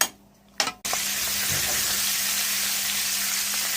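Fish coated in mixed spices goes into a hot pan. A short clatter and thump are followed by a loud, continuous, close hiss of frying oil.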